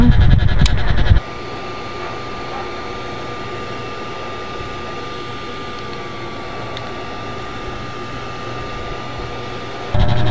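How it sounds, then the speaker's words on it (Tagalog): A blower drying a flooded room roars in a steady, continuous whoosh with a faint tonal whine, loud and close, with brief louder clatter at the start and end. "So guys, i-blower na natin siya."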